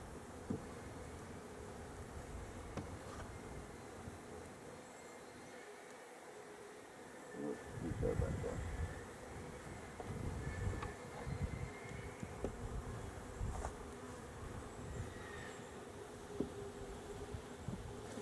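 Honey bees hum around their hive as they bring in pollen, a soft continuous buzz with individual bees passing close now and then, fairly faint and without talk.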